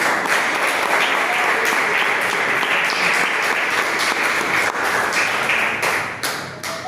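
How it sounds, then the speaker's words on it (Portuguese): A church congregation bursts into praise clapping during a worship service. The loud, sustained applause carries some sharper individual claps, and it thins out slightly near the end. "desocupar as suas mãos e louvar o Rei Jesus com as palmas"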